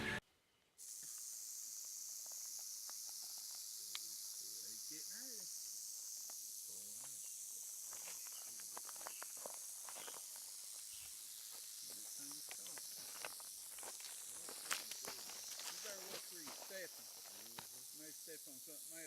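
A rattlesnake on a mountain at night buzzes with a faint, sustained hiss-like rattle under chirping frogs and insects, broken by scattered rustling steps and occasional speech.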